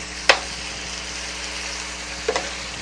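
Marinated deer meat sizzles in an electric skillet, a soft, steady hiss broken by two brief louder spatters or stirring clinks, close and quiet with no talk.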